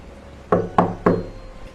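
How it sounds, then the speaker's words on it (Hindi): Three sudden, evenly spaced knocks land on a wooden door at night during heavy rain, close and resonant, with nothing else heard. "उसकी सोच में खलल तब पड़ा जब दरवाजे पर अचानक दस्तक हुई।"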